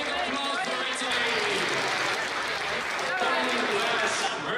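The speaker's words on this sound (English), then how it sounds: "Big applause for Italy." Crowd applause and cheering at a youth LEGO Sumo robotics competition, a dense steady wash of many hands clapping that holds at even loudness for the whole stretch, without any clear speech over it.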